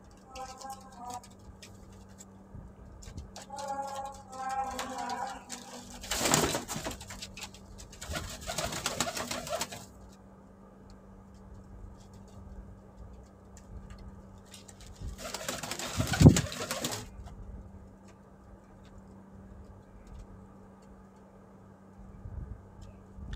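Red-pearl pigeons coo in soft repeated phrases, joined by a few louder wing flutters and bursts of rustling, while a person speaks quietly in the background.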